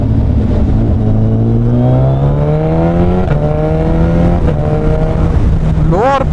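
Suzuki Hayabusa with a Brocks Penta carbon exhaust revs hard and climbs through the gears with a loud, rising engine note, then drops off into sharp crackling pops near the end.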